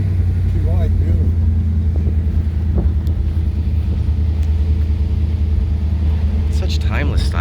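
A 1957 Ford Fairlane 500 convertible's engine rumbles steadily and close, a deep continuous drone with wind buffeting throughout and brief talk near the end.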